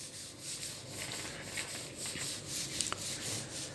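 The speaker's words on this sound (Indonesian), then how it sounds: "Ini nih menggunakan amplas nomor 100." Coarse number 100 sandpaper scrapes back and forth over the body of a 1981 Colt T-120 in a steady rhythm close by, a continuous gritty rasp with small clicks.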